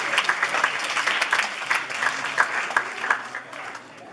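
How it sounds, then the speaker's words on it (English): An audience claps for absent contributors at a closing ceremony. The applause is moderate and steady, with individual claps audible in a dense patter that thins toward the end. "can we please have a huge round of applause for them as well"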